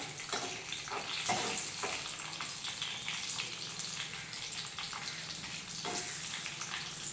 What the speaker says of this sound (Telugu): జీలకర్ర బాగా ఫ్రై అయ్యాక వెల్లుల్లిపాయలు వేద్దామండి